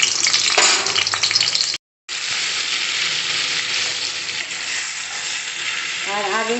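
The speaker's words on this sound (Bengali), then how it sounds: "তেল দিয়ে বাটারটা দিলাম, গলে গেছে।" Butter melting in hot oil in a wok, a steady loud close sizzle and crackle that cuts out briefly, then resumes with light stirring, no talk over it.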